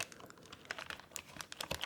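Quiet, irregular clicking and tapping of computer keyboard keys, close by, with a slightly crinkly texture and no voices.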